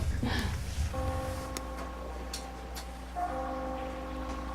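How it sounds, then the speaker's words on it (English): Distant church bells ringing with a sustained, resonant tone that lingers and swells again, over a low background rumble. "The church bells were real."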